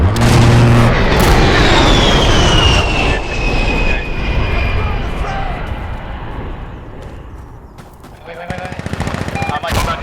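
Aircraft gun run strike in the shooter game Insurgency Sandstorm: a loud jet roar passes overhead and fades, followed by a rapid burst of heavy firing, while players talk over it.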